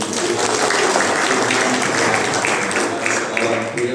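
A congregation at a men's church revival gathering claps steadily for a pastor being introduced, dense continuous applause with voices faintly mixed in.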